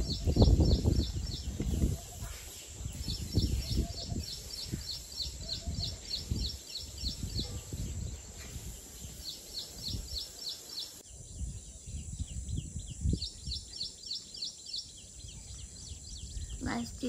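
Birds chirp in repeated quick bursts of high tweets across a quiet resort in Lonavala, steady and moderately close, with soft low voices and rustling underneath.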